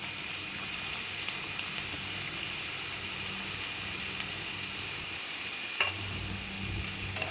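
Bitter gourd mixed with curd sizzles and fries steadily in a pan, a continuous crackling hiss with a brief clatter near the end as it is stirred.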